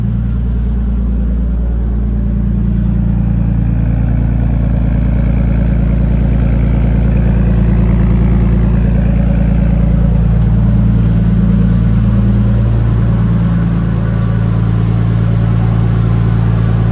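A Nissan Skyline R32 engine with a newly fitted GReddy intercooler idles steadily in cold weather with a deep, continuous rumble, loud and close, holding an even tone throughout with no speech.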